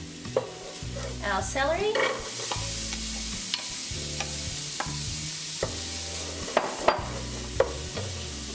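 Garlic, celery and grated fennel sizzle in a pan while a utensil stirs and scrapes them in repeated strokes, close and fairly quiet, with a few sharp clinks and a brief spoken remark.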